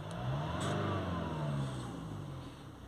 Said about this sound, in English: even when you accelerate